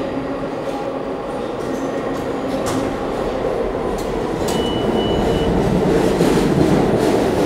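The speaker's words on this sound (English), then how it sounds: "And what do you know, my train is here." A New York subway W train pulls into the station, a loud continuous rumble of wheels and rail building steadily with faint squeals and clatter, no voices over it.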